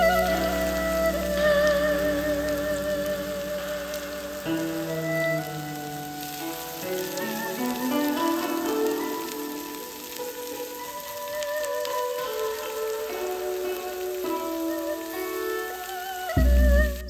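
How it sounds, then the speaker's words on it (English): Onions and green peppers sauté in hot oil with a steady, close sizzle like light rain, heard beneath loud, continuous background music. "Heat the oil and saute the onions and green peppers."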